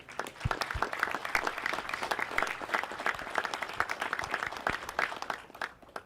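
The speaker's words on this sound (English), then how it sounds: "Please extend a round of applause to these 2 outstanding cadets" An outdoor military pass and review ceremony crowd claps for two honored university cadets, a moderately distant, even patter of many hands holding steady before tapering at the end.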